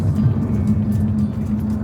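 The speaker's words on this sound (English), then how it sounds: "either the engine's dead or I hit a speed limiter" A Jaguar F-Type SVR engine drones loud and steady at the speed limiter, with a low, even hum and no clear rise or fall in pitch.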